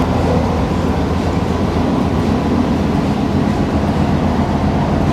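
An AC local train speeding between Dum Dum and Belgharia near Kolkata fills the cabin with a steady, loud, continuous rumble and roar of wheels on track, heard from inside the carriage without talk.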